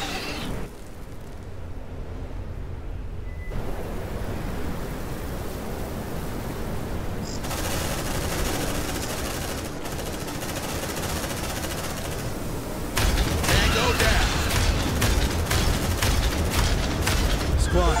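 Suppressive gunfire from the marines in Aliens: Dark Descent crackles as dense, sustained automatic bursts, growing louder and more rapid toward the end, with game voices and effects mixed in.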